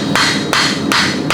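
A blacksmith hammers a hand-forged hook on the horn of an anvil, four sharp, loud, ringing metal strikes at an even rhythm, close up with no talking.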